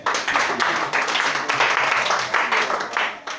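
A church congregation at an Easter service claps and cheers for Jesus, loud and sustained applause with voices mixed in throughout.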